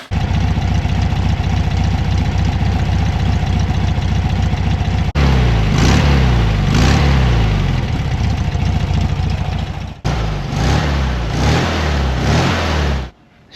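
A 1970 VW Beetle's engine idles steadily, then revs in repeated bursts close by, dropping briefly and revving again before cutting off.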